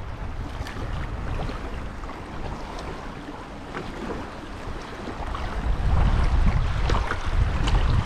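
Steady rushing creek water churns and splashes close by over shallow riffles on French Creek, with gusty wind buffeting and a deeper rumble swelling near the end.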